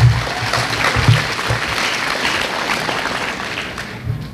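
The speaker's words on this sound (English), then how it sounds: "Give yourselves a round of applause." A large graduation ceremony crowd applauds, a steady wash of many hands clapping at once, full and sustained across the whole stretch.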